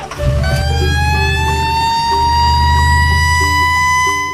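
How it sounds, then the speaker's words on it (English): A red fire truck siren wails loudly and steadily, its rising tone sweeping upward over a low rumbling engine, close and continuous without any talk. "Red fire truck."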